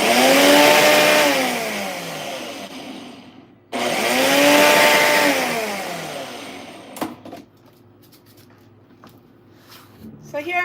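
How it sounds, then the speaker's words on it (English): A loud blender whirs in two long bursts blending oatmeal, its motor pitch shifting as the contents churn, followed by quieter clatter and small knocks. "I'm not doing any talking during the blending process because my blender is very loud"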